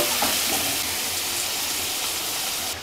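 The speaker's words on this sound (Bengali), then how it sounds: "পেঁয়াজটা হালকা লাল করে ভেজে নেব" Two finely chopped medium onions fry with cumin in a pan for chana masala, giving a steady close hiss of sizzling oil, uninterrupted and without voices.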